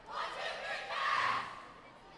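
Parents cheering on swimmers at a high school swimming meet, a broad crowd roar with shouts that swells midway then eases, heard at a distance in an echoing pool hall.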